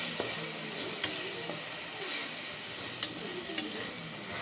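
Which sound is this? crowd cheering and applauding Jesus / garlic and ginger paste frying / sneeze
garlic and ginger paste frying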